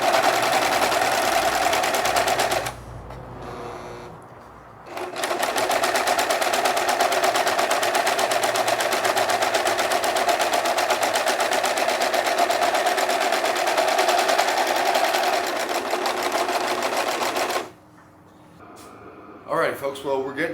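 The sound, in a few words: sewing machine cutting and overcasting wool fabric seam edges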